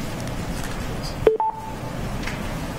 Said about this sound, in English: I'm hearing the phone blink on and off